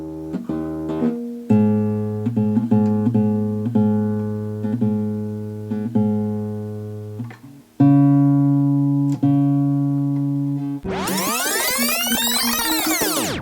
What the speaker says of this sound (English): when it comes to tuning the guitar, I tend to use a little clip-on tuner